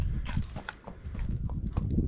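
Hooves of a pregnant mare clip-clop at a brisk walk under a rider, a close, steady series of dull thuds with a light rhythmic beat.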